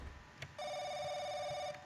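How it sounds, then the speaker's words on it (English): A phone rings in the horror game The Crooked Man, one steady electronic ring tone sounding clearly for just over a second after a faint click, with no speech. "Oh, phone."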